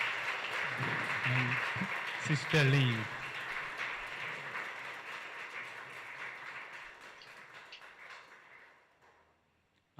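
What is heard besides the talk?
audience applause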